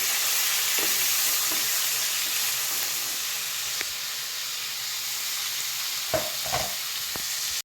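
Drumstick leaves fry in a pan with a steady hissing sizzle, close and even, with a few soft knocks from stirring and no voices.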